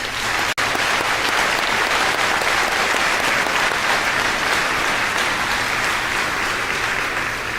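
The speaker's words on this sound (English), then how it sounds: "Let's give our scholarship winners another round of applause." A high school graduation audience gives scholarship winners another round of applause, loud, dense and sustained clapping from a large crowd throughout.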